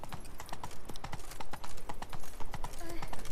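Roach, a horse in The Witcher 3, gallops with a steady, fast clip-clop of hooves close by, the rhythmic beats continuing throughout with game ambience underneath.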